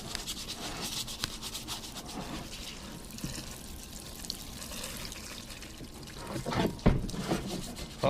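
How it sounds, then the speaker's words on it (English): Parts cleaner sprays in bursts onto oily car brake parts during a brake change on a 2007 Ford Edge, a close, hissing rush with short pauses and a louder spurt near the end. "So we're going to use our parts cleaner here. We're going to clean up all this oil residue here."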